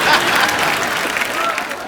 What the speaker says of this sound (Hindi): स्वामी जी के लिए खड़े होकर तालियां बनती हैं।